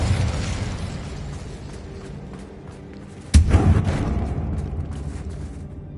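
Fire spell Incendio cast in Hogwarts Legacy, a sudden loud burst that erupts over a low game ambience and trails into a crackling, roaring flare lasting a couple of seconds.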